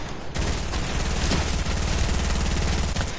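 Video game arena gunfire: a continuous, loud, close rattle of rapid automatic shots that keeps up without a break, heard alone with no voices.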